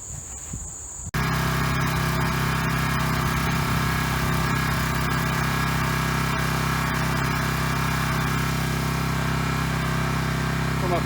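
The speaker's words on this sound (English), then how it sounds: "I'm going to fire up the pressure washer and hose it off." A gas pressure washer starts abruptly and then runs at a loud, steady drone with a constant high hiss of spraying water, used outdoors for cleaning a white vinyl fence.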